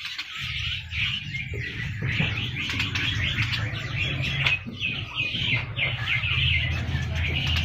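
A pair of magpie robins (murai) chirps and whistles in a continuous run of bright, overlapping calls, close and fairly loud. A low background rumble sits beneath the birdsong throughout.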